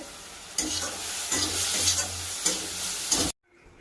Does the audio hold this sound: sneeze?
no